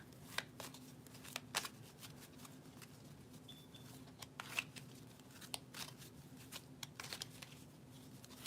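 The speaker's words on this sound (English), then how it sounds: "I'm just going to shuffle and see what comes out." Tarot cards are shuffled by hand close up but quietly: soft riffling and crisp card snaps repeat in irregular bursts over a low steady hum.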